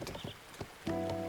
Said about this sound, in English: I'd like to present to you my trusty steed